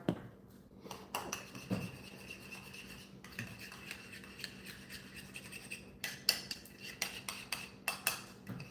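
Ingredients are stirred in a mixing dish, with irregular scraping and clinking of a utensil against the bowl in short bursts, close and quiet, no talk.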